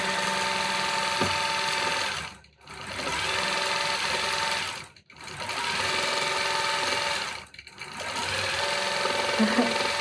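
A Gammill longarm quilting machine stitches a quilt in a loud, steady whirring hum, running in three long sustained passes broken by brief stops.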